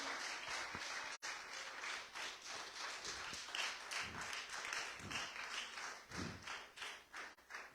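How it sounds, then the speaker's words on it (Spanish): Congregation clapping in a church service, a faint, distant, uneven patter of applause with soft thumps that swells and fades in waves throughout. "Alguien dele un aplauso fuerte y póngase de pie."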